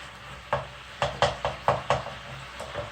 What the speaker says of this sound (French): vous allez ajouter donc l'oignon